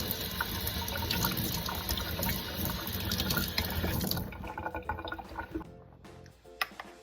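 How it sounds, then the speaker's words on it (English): Cold tap water runs steadily into a kitchen sink as food is rinsed, a close, continuous splashing stream that tapers off into scattered drips and small clatters toward the end. "I'm gonna rinse them off a little bit with cold water"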